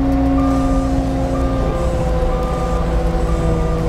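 Cat machine fitted with an AccuGrade box blade drives with a loud, steady diesel engine drone and a shifting tonal whine, close and continuous.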